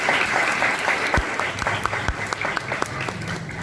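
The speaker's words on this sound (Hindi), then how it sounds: "आइए खुदाम के कलाम को, खुदा के खादम को जोरदार तालियों से बधाएं।" A church congregation gives loud, hearty applause for a preacher during a sermon service, with dense, continuous clapping and no speech over it.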